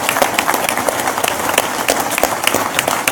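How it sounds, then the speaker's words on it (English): Audience applause for candidates at the end of a political debate, a dense steady round of many hands clapping, fairly close and sustained throughout. "Please join me in giving a rousing round of applause to the candidates tonight."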